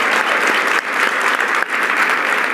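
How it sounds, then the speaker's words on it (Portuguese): A round of dense applause from an audience at a talk, steady and loud throughout with a couple of brief dips in intensity. "Uma salva de palmas."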